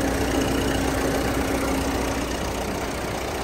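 A 1.3 litre car engine idles with the bonnet open, a steady, close mechanical hum and rumble that runs without a break and stays even in level throughout.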